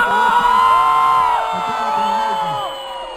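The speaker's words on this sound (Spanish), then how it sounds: "Un aplauso para esa lucha estudiantil." Concert crowd at a Calle 13 show cheering and whooping loudly, with sustained shouts and yells rising and falling over a ringing musical tone rather than distinct clapping.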